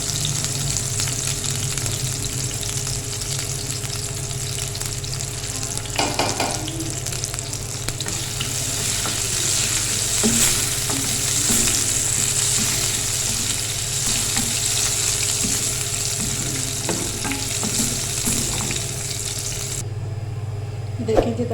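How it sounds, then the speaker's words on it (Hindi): Tadka tempering for moong dal fries and sizzles steadily in a hot pan, a loud continuous crackle with occasional stirring scrapes, and brief voice sounds at times. "बस इसको थोड़ा सा कलर आ जाए फिर तड़का लग जाए।"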